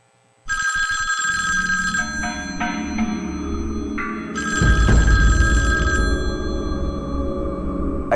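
A telephone rings with an electronic bell tone in repeated bursts, loud and close, with a low rumble joining partway through and no talk over it.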